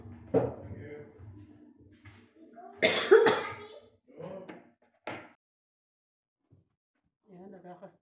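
A little boy coughs several times in a quiet home, some coughs sharp and loud and others softer, with pauses between them and some talking in the room.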